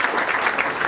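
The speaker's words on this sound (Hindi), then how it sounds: "आप सभी की तालियां बजती रहनी चाहिए जब ये अवार्ड प्रदान किया जा रहा है।" Audience applause at an award presentation during a music tribute concert, steady dense clapping filling the whole short moment at an even level with no voices.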